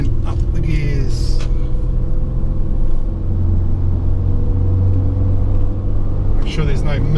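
A 1999 Toyota Hilux Surf SSR-X with a 3.4-litre V6 pulls hard under load through the gears on a test drive, its loud, close engine rumble droning steadily with shifting pitch, while voices are faintly present.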